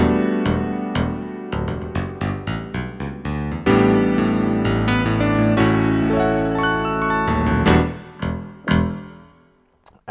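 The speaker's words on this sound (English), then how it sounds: "the sound of the Yamaha CP80," A Korg SV2 stage piano plays its Yamaha CP80 electric grand voice, alone and close, with a series of struck chords and notes that ring and decay, then a final sustained passage that fades out.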